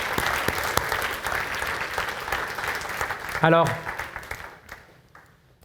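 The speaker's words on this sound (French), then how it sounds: "On peut applaudir le roi des rois quand même." Congregation applauding in a church service, a steady wash of clapping that tapers off toward the end, with a brief spoken word from one voice partway through.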